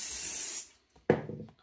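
Aerosol glue accelerator (kicker) sprayed onto a wire while building a Flair Fokker D7 model: a steady close hiss for about half a second, then silence, followed by a sharp handling clatter and faint rustling.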